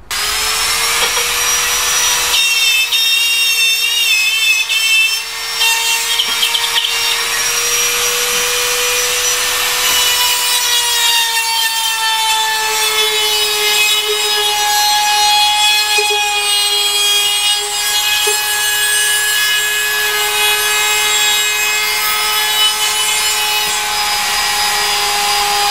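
A cutting tool works a box cutout through ceiling sheetrock with a loud, continuous high-pitched whine. The noise holds close and steady for the whole stretch, with no talking.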